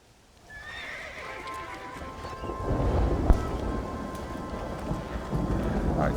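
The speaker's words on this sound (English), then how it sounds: "what a storm this is" Thunderstorm rain in the Western video game Red Dead Redemption builds from quiet to a steady heavy downpour, with a horse whinnying early and hooves clip-clopping, plus a sharp thunder crack midway.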